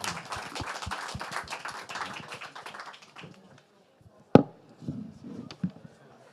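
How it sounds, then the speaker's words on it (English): An audience claps for panelists at a food loss and waste discussion event, a scattered round lasting about three seconds and fading out, followed by a sharp thump and faint talking. "give our panelists a round of applause"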